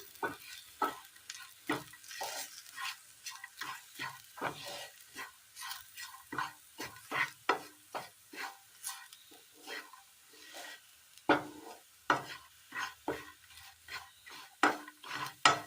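Spice powders stirred in a hot dry pan for a Kerala curry, a steady run of short scraping strokes with a faint sizzle, close and clear, with no voices.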